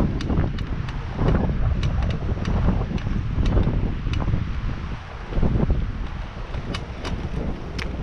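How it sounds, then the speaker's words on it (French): Strong wind gusting steadily across the microphone at Vathi harbour on Ithaca, a continuous low roar with rushing bursts, water and boat sounds faint beneath. "Oula, là on reprend du vent."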